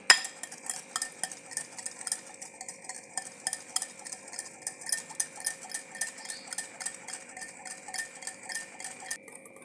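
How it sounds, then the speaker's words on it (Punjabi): Whip cream being beaten by hand in a bowl for homemade ice cream, a quick irregular series of light clinking and scraping strokes, close and faint, with no talking. "150 ਗ੍ਰਾਮ ਹੈ ਆਪਾਂ ਚੰਗੀ ਤਰ੍ਹਾਂ ਫੈਂਟ ਲਾਂਗੇ"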